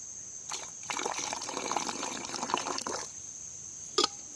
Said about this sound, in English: Now, I'm going to pour cold water in from a height like this.